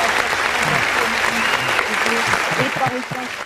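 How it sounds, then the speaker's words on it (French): A studio audience on a French football talk show applauds, steady moderately loud clapping throughout while someone talks over it. "Les applaudissements."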